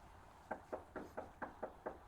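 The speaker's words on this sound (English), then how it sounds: "I'm just knocking on your door." Police knock on a residential door with seven evenly spaced, firm raps, close and clear with no voices.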